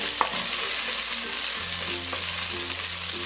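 Ginger garlic paste frying in hot oil while being stirred, with steady close sizzling and a few scrapes of the spoon in the pan, no talking.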